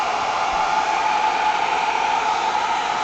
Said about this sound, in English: I'm going to hit that with the hairdryer again